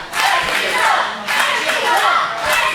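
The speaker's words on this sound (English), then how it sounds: "That crowd here is fired up." A wrestling arena crowd at an MPW independent show roars and chants in loud, rhythmic waves, swelling and dipping about every second, close and full with no single voice standing out.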